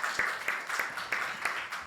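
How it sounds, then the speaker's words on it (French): Applause for a singer at a youth festival, faint and thin, with a handful of hands clapping in loose, uneven bursts. "On peut encore t'applaudir"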